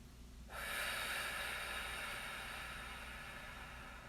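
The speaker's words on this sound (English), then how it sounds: "Take a deep breath in and forcefully exhale" A long, forceful breath pushed out during a guided breathing exercise, a steady breathy rush that starts abruptly and holds for several seconds, close and alone.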